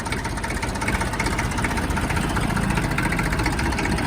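A Massey Ferguson narrow tractor, a self-start silent model fitted with a double clutch and power steering, idles steadily with a loud, even diesel rumble close by and no voices.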